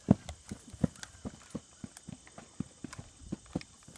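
A horse's hooves clip-clop in an irregular walking rhythm, a series of distinct sharp knocks, fairly quiet and close, with no voices over them.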